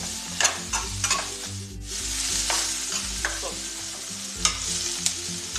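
Thinly sliced ingredients fry in a pan for Karwar-style clam sukka, a loud, steady close sizzle broken by repeated clacks and scrapes of a spoon stirring, with no voices.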